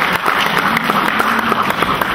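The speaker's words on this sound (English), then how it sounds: "you are to applaud yourselves and thank yourselves and pat yourselves on the back" An audience at a county budget hearing applauds, a dense and steady wash of clapping that stays loud and even throughout, with no talk over it.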